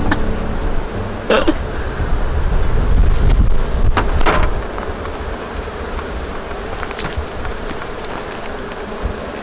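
A dense swarm of bees buzzing close by as they are added to a hive, a steady droning hum with brief rustles and wind buffeting the microphone, louder at first then settling.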